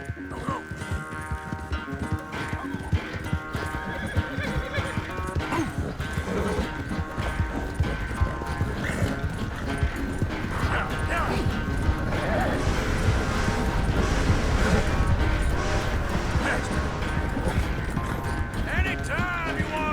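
Horse in Red Dead Redemption 2 galloping with steady clip-clop hoofbeats and occasional neighs, loud and close over a busy game soundtrack and ambient noise throughout.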